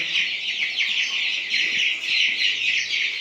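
Young chicks, pullets from a batch of twenty-six, peep and cheep continuously in their new coop, a close, busy chorus of high chirping with occasional soft clucks.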